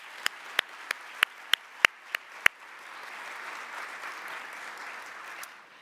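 Audience applause at a National League for Nursing awards address, opening with several sharp, evenly spaced claps close to the microphone, then a softer, more distant wash of clapping from the room.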